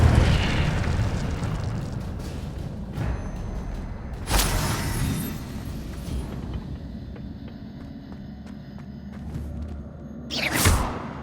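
Spells are cast in the video game Hogwarts Legacy, including Levioso, Accio and Incendio. Loud magical whooshes, fiery bursts and rumbling booms follow one another over a continuous effects bed, with sharp peaks near the start, middle and end.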